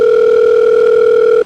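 A steady telephone dial tone heard while a phone call is being placed, loud and unbroken, holding a constant pitch for over a second before cutting off abruptly.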